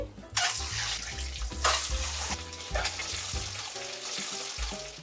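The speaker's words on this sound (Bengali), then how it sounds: "আমি ডিম দুটোকে একটু ভেজে নিচ্ছি।" Two eggs frying in hot oil with turmeric in a kadai: a loud, close, continuous sizzle broken by rhythmic stirring and scraping strokes, with no talk.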